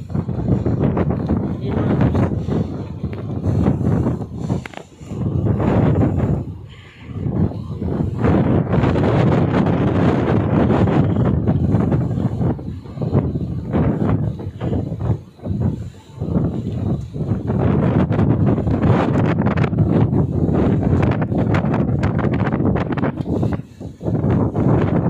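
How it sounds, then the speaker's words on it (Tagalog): Strong wind buffets the deck of a river cruise boat on the Mississippi River, roaring loudly and gusting almost without pause, with brief lulls and a faint voice now and then. "Lakas ng hangin"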